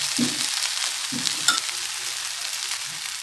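Okra being sautéed in a pan, with a steady hiss of frying and a few soft scrapes and clinks from stirring.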